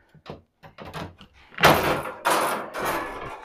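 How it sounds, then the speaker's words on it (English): Drawers of a new Precision Matthews metal lathe cabinet slide along their rails with rolling rumbles and a thump, loud and close after a few soft taps, no voices. "Nice sliding drawers"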